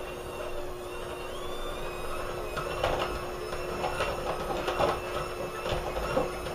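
An electric mixer creams half a cup of solid shortening in a bowl for fudge brownies, a steady close whirring drone running throughout with slight rhythmic knocks as the beaters work, no talking.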